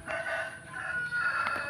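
A hen gives a short, strained crowing call nearby, rising and wavering over about two seconds.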